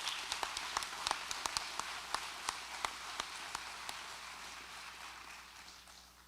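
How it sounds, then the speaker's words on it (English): An audience at a career center passport ceremony claps for newly inducted students, a dense patter of many hands with sharp individual claps standing out, gradually thinning and fading toward the end. "Please give these students a round of applause"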